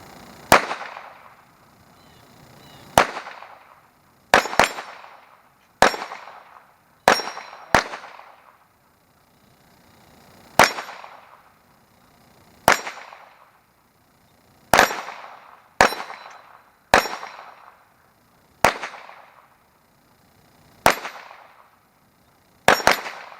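Handgun shots ring off an Action Target Sport Dueling Tree's AR500 steel plates: about fourteen sharp, loud metallic clangs at irregular intervals, each with a short ringing decay, and no talking.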